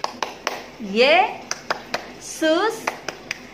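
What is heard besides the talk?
children clapping hands in a clapping chant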